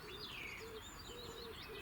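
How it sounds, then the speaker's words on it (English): A wood pigeon coos faintly in the background of a garden in May, soft repeated calls mixed with other birdsong and steady outdoor hiss, no voice over it. "I don't know if you heard that in the background there, bloody wood pigeon."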